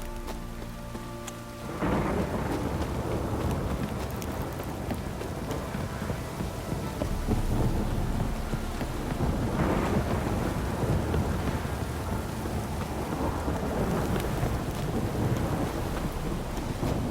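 Heavy downpour in The Witcher 3: Wild Hunt, with steady loud rain hissing on surfaces and deep thunder rumbling through it; the storm swells after a brief quieter opening and continues unbroken.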